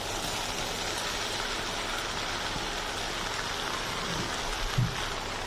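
Fried meat goes into a pan of lightly cooked vegetables and tomato slices for Azerbaijani shakshuka, sizzling with a steady, rain-like crackle throughout. A faint clunk sounds near the end.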